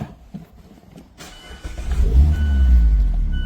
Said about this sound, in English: If I go into the Miata and start up